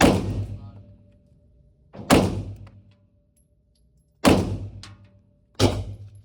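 Four sharp gunshots from a Sig Sauer P365 FUSE pistol fired at a target on a range, spaced about two seconds apart, each loud crack decaying quickly into silence.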